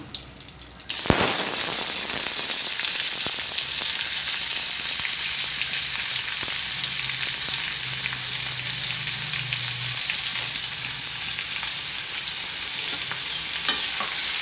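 Chopped onions hit hot oil in a pan for a soya chunks cutlet, bursting into a loud, steady close sizzle that runs on without pause and with no voices.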